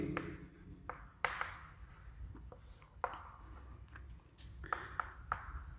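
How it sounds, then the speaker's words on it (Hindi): Pen or marker writing on a board or paper during a maths lesson, a light scratchy rubbing broken by a few sharper taps and strokes, faint and close, with brief pauses between bursts. "सॉल्यूशन के लिए हम लिखेंगे"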